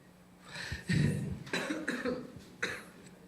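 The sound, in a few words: coughing fit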